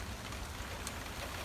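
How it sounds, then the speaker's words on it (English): Steady, dense rain from a major thunderstorm pours down nearby, a continuous broad hiss with occasional heavier patters and no talking. "Hope you guys can hear this rain."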